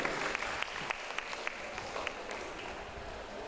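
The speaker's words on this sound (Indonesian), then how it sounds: "tepuk tangan untuk Bu Shirley" Applause for a woman called up to speak at the opening of a charity health-check event, a steady wash of clapping with a few sharper claps standing out, moderately distant and lasting the whole stretch.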